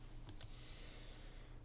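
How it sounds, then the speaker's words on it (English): Two quick, quiet keyboard key taps land close together near the start, then the room stays still with low background hum. "I'm just using the delete button on the keyboard right now."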